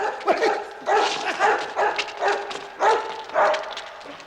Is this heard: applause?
no